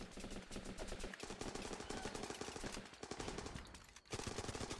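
Heavy machine gun blazing in the shooter game Running With Rifles, fired from a prone position: dense, relentless rapid bursts, loud and close, with scattered distant gunfire mixed in.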